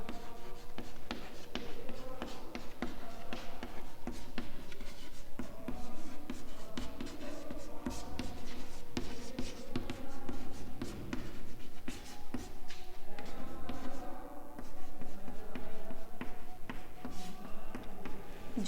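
Marker or chalk writing on a board during a physics lesson on zone plates and convex lenses, continuous scratchy strokes and taps in an indoor classroom with no talk.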